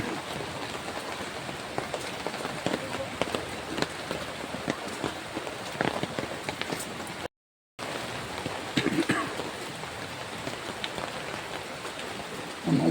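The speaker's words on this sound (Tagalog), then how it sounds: "ulan ang biyahe" Steady rain falls on a boat during a river crossing, a continuous close hiss of drops with scattered patters and brief quieter moments, with no voices.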